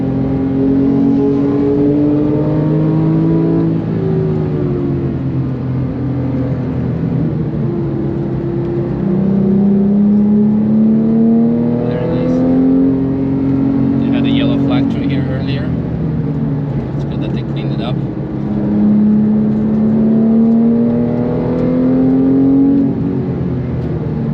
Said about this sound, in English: We might let the GT3 behind us pass the 992